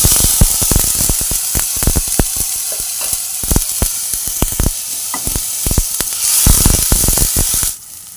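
Chopped green chillies and tomato paste sizzle hard in hot oil in a pan for a fish curry, a steady loud hiss broken by frequent sharp crackles and spits, with no voices.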